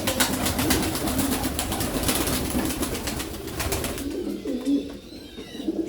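Pigeons, including a green-toned variety, coo in a bird loft on a farm. Low repeated throaty coos carry over a dense bed of chatter from many birds, and a few calls stand out near the end.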